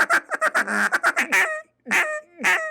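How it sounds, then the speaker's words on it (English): A wooden duck call, its reed freshly trimmed shorter for a higher pitch, blown in a quick run of close, loud quacks, then a pause and two longer drawn-out calls. "Now my duck call is ready to go for the season."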